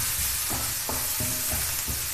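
Chopped onion sautéing in a pan gives a close, steady sizzle, broken by a few scraping stirs at regular intervals.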